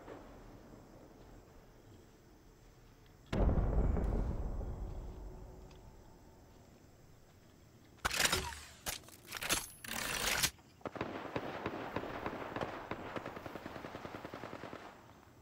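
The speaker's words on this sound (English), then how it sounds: "Thermite out! Casting a frag." Thermite and frag grenade blasts in the Apex Legends video game: a heavy explosion with a long fading rumble, then a rapid cluster of sharp bursts and continued crackling.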